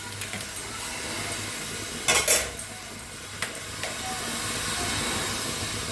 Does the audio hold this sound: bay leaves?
yes